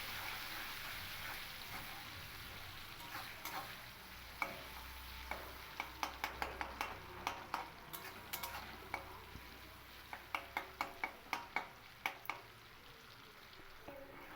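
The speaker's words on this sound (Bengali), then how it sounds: "পেঁয়াজটাকে খুব ভালো করে আমি ভেজে নেব" Finely chopped onions fry in a pan for a Bengali-style chicken kosha, a soft steady sizzle running underneath as a spoon scrapes and taps the pan in quick irregular clicks.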